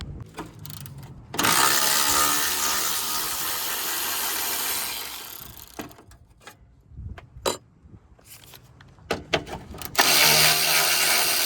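Work on the upper radiator hose clamp of a Toyota 3.5L V6 2GR-FE engine, with a long steady whirring burst from a power tool followed by scattered clicks, clanks and ratcheting, then another loud burst, close by.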